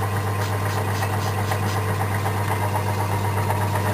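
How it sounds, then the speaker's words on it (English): A metal lathe turns stainless steel for a bolt-action pen part, its motor running with a steady, loud hum and fast rhythmic chatter close by, with no speech. "I wish I could take this lathe slower"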